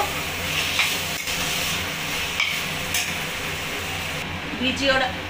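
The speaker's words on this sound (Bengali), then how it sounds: "ভালো করে নাড়িয়ে নেব।" Kochu greens being stirred in a hot pan, a continuous hiss of steam and sizzle with scraping stirs and a few clinks, fairly close and steady, with faint background noise.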